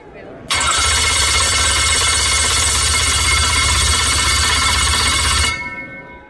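An engine starter cranks hard during a head-to-head battery test, a loud sustained churning whir that kicks in abruptly, runs about five seconds with steady rhythm, then cuts off.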